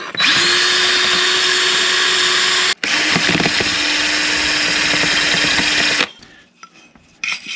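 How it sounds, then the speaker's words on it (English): A power drill spins a wire brush against a metal drain flap, a loud continuous grinding whir that pauses briefly, resumes, then cuts off into quiet scraping. "I'm just going to use my wire brush again on my drill"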